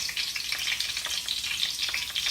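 Garlic frying in a very hot pot, a steady bright crackling sizzle with a few louder pops, close and alone with no voices.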